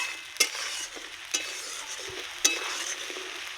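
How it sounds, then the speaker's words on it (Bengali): Spice paste fries lightly in a pan in rustic village-style chicken cooking, a low steady sizzle broken by four sharp spoon knocks against the pan at roughly one-second intervals as it is stirred. "এবার আমি হালকা হালকা ভাবে ভেজে নেব। মশলাটা আমি খুব হালকা করে ভেজে নেব।"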